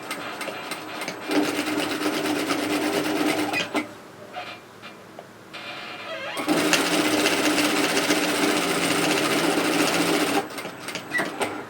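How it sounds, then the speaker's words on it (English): A sewing machine edge-stitches a lined tote bag strap with a fast, steady mechanical whir. It runs for a few seconds, pauses briefly, then starts again and continues without talk. "I'm going to sew this as an edge stitch, which is around about 1 or 2 millimeters in from the edge of our strap."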